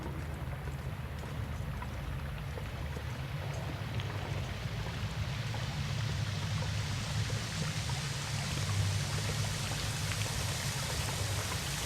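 A waterfall in The Long Dark pours in a steady, dense rush that holds even and unbroken throughout, with no talking.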